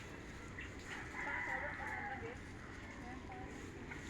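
Birds chirp and call in mountain woodland near nesting spots, several short calls repeating over steady outdoor background noise.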